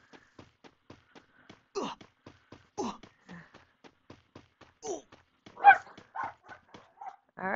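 A pet dog barks and yips several times in short, separated bursts indoors during a live game stream. Faint rhythmic clicking runs underneath, and the barks are loud and close.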